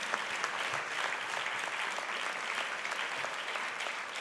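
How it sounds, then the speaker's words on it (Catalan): An audience claps through a steady, even round of applause at the Figueres Talent 2024 awards ceremony, heard from within the hall. "l'aplaudiment li podem fer igualment"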